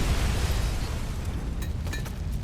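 Grenade blast in Robocop: Rogue City, a loud, dense low-heavy roar of explosion noise filling the space, fading slightly into crackling debris and sharp ringing metallic ticks.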